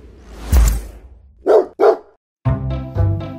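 A pet dog barks in a series of loud, close barks: a single bark, then a quick pair, then two longer tonal yelps after a short pause.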